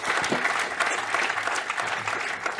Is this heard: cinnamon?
no